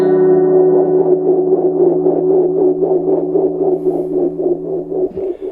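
A sustained guitar tone fed through a Meris LVX delay pedal with slip, crinkle and static modulation turned up, throbbing in a quick regular warble across several seconds before it cuts off, loud and alone.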